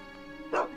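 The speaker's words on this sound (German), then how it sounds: "Und da sitzt ein kleiner Hundi." A small dog yips once in The Witcher 2, a short bright bark standing out briefly over steady game music and ambience.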